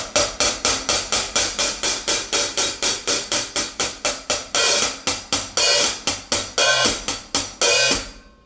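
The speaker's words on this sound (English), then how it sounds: "Sabian AA 14-inch fusion hats." Sabian AA 14-inch fusion hi-hat cymbals struck in an even rhythm, each bright chick decaying quickly, then a run of looser, washier open hits near the end.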